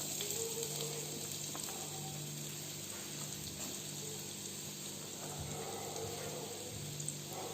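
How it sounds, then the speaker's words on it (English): Chopped onions fry in oil in a heated pan, a soft, continuous sizzle with faint scattered crackles, quiet and steady throughout. "let the onion get cooked little till it gets into transparent"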